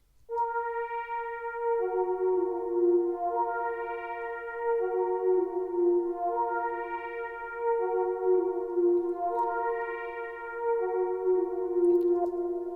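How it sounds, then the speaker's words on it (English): A sustained wavetable synth pad with buzzy, harmonically rich sawtooth tones, shifting chords every couple of seconds and a slow pulsing sweep, steady and alone. "So I've used the wavetable synth with a sawtooth wave."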